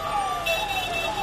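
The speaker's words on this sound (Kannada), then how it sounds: "ಅಗ್ನಿಶಾಮಕ ವಾಹನ ಬರ್ತಾ ಇರುವಂತಹ ದೃಶ್ಯವನ್ನು ನೋಡ್ತಾ ಇದ್ದೀನಿ" A fire engine siren wails steadily on the road by Byatarayanapura on Mysore Road in Bengaluru, loud and close, with its tone sliding slowly downward over traffic noise as the engine heads toward a burning courier godown.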